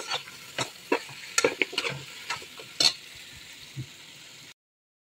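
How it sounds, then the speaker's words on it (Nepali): Meat fries with tomato paste for an Arabic marag lahm stew, sizzling steadily in the pan while a spoon stirs it with repeated scraping clatters. "यसरी मासु सँगसँगै टमाट म्याजुन हालेर भुट्नु भने गन्ध हराउँछ"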